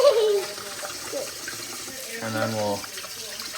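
Morel mushrooms are rinsed in a strainer under a running kitchen tap, a steady splashing water stream heard up close beneath a brief spoken remark.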